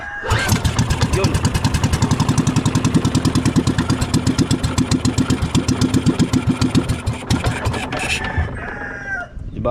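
A small boat engine, freshly rewired, runs steadily with a fast even chugging pulse, loud and close, for most of the stretch before it cuts out near the end.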